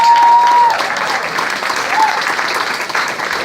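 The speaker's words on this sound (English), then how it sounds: "So give him a round of applause." A town hall audience claps loudly for the Comptroller, a dense burst that begins strong and stays sustained, with a brief electronic tone near the start.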